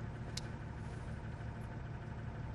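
A Mercedes-Benz truck engine runs at a steady idle, a low, even rumble that holds at moderate distance for a couple of seconds, with a faint click partway through and no voices.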